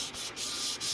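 Continuous rasping of sandpaper on wood during a final sanding pass, steady and close with small dips in intensity, no talking.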